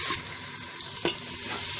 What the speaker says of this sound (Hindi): अब लहसुन को थोड़ी देर भून लेंगे।